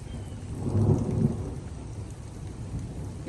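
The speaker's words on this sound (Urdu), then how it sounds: "You can hear thunder." Thunder rolls through steady early-morning rain after the wind has died down, with a low rumble swelling in the middle and fading back into the hiss of rainfall.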